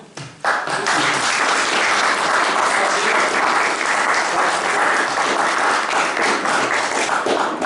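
Loud, sustained applause from an audience at a French Communist Party New Year's gathering in Corrèze honouring a retiring mayor, bursting in after a brief pause and holding steady throughout.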